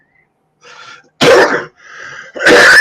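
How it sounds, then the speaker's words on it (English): Two loud, harsh coughs about a second apart from a person with a stuffed-up head, each preceded by a brief breathy exhale or throat sound, indoors during a gathering of friends and family. "I apologize for the cough."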